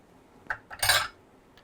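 A utensil stirs paprika, brown sugar, salt and pepper in a bowl for a dry rub, a few brief close scrapes and clinks.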